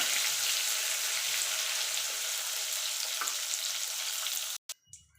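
Eggplant pieces coated in salt and turmeric frying in hot oil, a dense, loud, steady sizzle close by for several seconds, then a sudden cut to quieter sound with a faint clatter.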